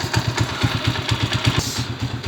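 A motorcycle engine idling after a carburetor clean and tune-up, a close, even, rapid thumping pulse that beats steadily at a smooth idle without any voices.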